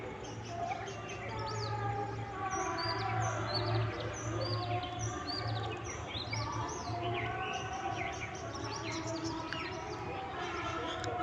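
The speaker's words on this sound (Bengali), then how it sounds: "চারিদিকে পাখির কিচিরমিচির শব্দ" Many birds chirp and tweet all around a small swimming pool in Pabna in winter, a busy outdoor chorus with a steady low hum underneath throughout.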